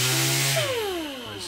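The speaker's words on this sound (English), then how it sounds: "you get your sander because you want to take some of the finish off." A power sander strips finish from the edges of an electric guitar's metal neck plate, a close motor whine that drops in pitch as it spins down, brief and fairly loud.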